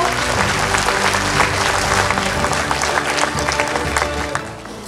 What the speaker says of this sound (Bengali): আপনাদের কাছ থেকে জোরে করতালি আশা করছি